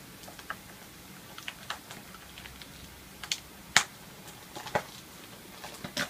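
A trading card booster box is pried open by hand without scissors, giving scattered crinkles, snaps and tearing clicks of stiff packaging at close range, irregular and fairly quiet, with one sharper pop partway through.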